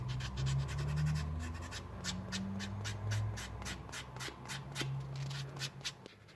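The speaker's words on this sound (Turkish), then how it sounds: "Şimdi köşeyi de zımparalayalım." Steady rhythmic scratching of sandpaper against the corner of a leather piece, smoothing away knife marks, close up, with repeated short strokes over a low background hum.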